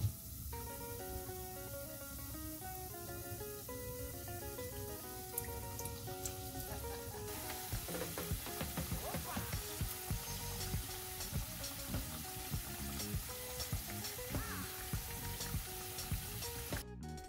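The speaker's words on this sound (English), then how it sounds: "that's the sizzle you want to hear" Meat pies fry in hot oil, giving a steady crackling sizzle that thickens into dense spitting and popping after a few seconds, close and continuous.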